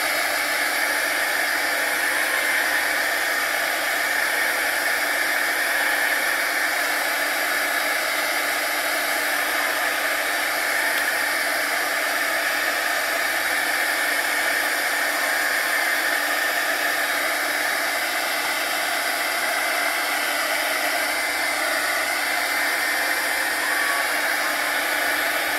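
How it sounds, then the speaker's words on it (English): A heat gun blows on a paper butterfly, giving a loud, steady, hissing rush of air that stays constant throughout with no voices. "go ahead and hit this with the heat gun"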